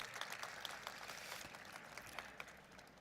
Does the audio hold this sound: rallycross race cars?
no